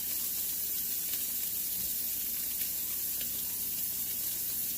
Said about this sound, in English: We get a nice sizzle. Pan needs to be nice and hot